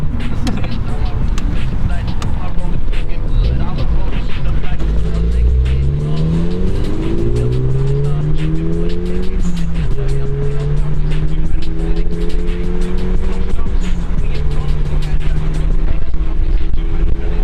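Tuned performance cars, a Toyota GR86 and a VW GTI, rev hard through full-throttle pulls in Mexico, engine pitch climbing and dropping through several gear changes, loud and close, with people talking over it.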